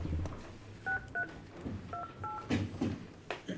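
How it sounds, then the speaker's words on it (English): Short tonal telephone keypad beeps in quick pairs, fairly faint, with soft handling noises and clicks around them. "Dial tone."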